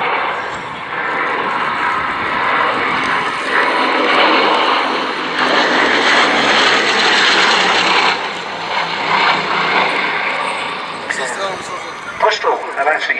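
A Bristol Blenheim, a Second World War twin-engine light bomber, drones steadily as it flies at a military pageant air show, its engine roar swelling and fading as it passes, with an announcer talking over it throughout.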